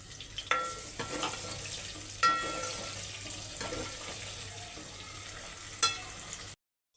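Onions frying in oil until pink, a continuous soft sizzle with a few sharp clicks of a spatula against the pan, close and fairly quiet, ending abruptly in silence.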